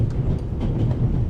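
A train rolling along in the video game The Raven: Legacy of a Master Thief Remastered, a loud steady low rumble with faint rhythmic clickety-clack of wheels over rail joints, heard from inside the carriage.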